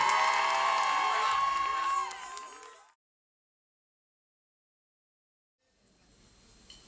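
A worship audience at a live event in Brussels cheers and whoops loudly for about two seconds, fades into silence, then a fainter crowd murmur returns.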